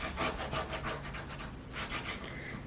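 Regular packaging tape being burnished by rubbing, a close, dry scraping swish repeated in quick strokes, with a brief pause before a few more rubs, with no talk.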